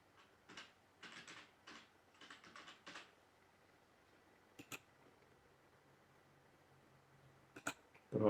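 Typing on a computer keyboard while entering an email address: several quick bursts of soft key clicks, then a pause and a few isolated clicks, quiet and close in a silent room with no voices.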